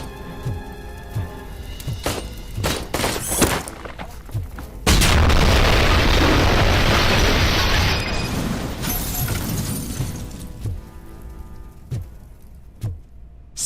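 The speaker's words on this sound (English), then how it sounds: "So the grenade went off while I was holding him" A loud grenade explosion in RoboCop: Rogue City bursts into a long roaring blast with crackling debris that fades over several seconds, surrounded by scattered sharp gunshots before and after.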